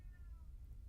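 A house cat, a kitty that has just been fed, gives a faint, thin meow that rises and falls once over steady low background rumble, with no voices.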